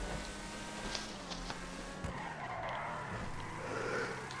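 Car in GTA 5 Online accelerating hard and skidding, with a continuous tire screech over a revving engine.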